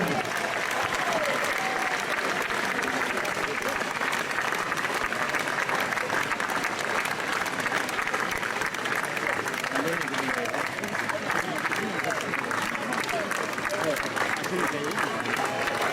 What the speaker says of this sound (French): Et on continue à applaudir.